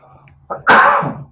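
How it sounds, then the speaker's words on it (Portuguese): A single loud, harsh cough bursts out close by after a brief quieter breath, then trails off. "perdão pela tosse"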